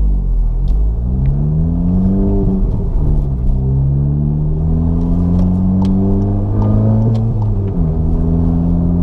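An MK7 car fitted with a center exit exhaust idles with a steady, deep low drone and a humming tone that wavers slightly, continuous and close throughout with no talking.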